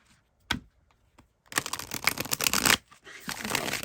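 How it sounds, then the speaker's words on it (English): A tarot card deck being shuffled by hand: a few isolated taps and flicks, then a dense burst of riffling card noise, a short pause, and another stretch of shuffling, close and fairly quiet. "I love shuffling this deck."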